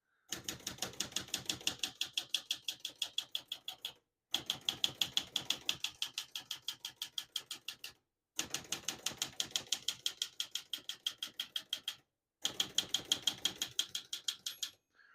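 Rapid typing on a 1974 Olivetti Underwood 315 portable typewriter, with dense runs of crisp clacking keystrokes split into four bursts by short pauses, close and loud, no voices.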